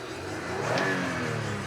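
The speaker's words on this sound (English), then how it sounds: "Revs up nicely, idles smoothly there, that's great." A 2007 Lexus RX 350 AWD engine with 108,000 miles revs up briefly and settles back to a smooth idle, a short swell of motor noise heard at moderate volume with no talking.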